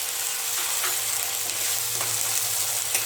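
Tomato and chilli puree hitting a hot pan of onions with ginger-garlic paste, a continuous close sizzle and fry with faint stirring, no voices.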